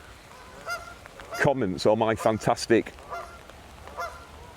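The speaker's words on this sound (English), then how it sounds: "some incredibly noisy geese" Geese honking loudly in a rapid burst of harsh calls beside a river, with a few fainter honks before and after, while someone speaks briefly over them outdoors.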